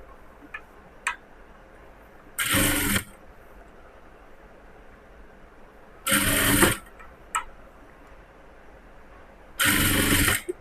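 Sewing machine stitching a folded seam on a cross-cut blouse: three separate bursts of rapid, whirring needle action, each lasting under a second, separated by quiet pauses with faint clicks, close up and without speech.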